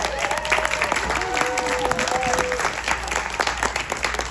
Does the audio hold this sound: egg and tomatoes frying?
no